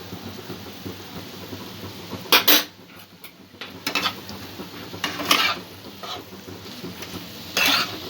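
Bread pulao with vegetables and a spoonful of tomato ketchup being stirred in a pan, the spoon scraping and clinking against the metal in a few sharp bursts over a soft background hiss.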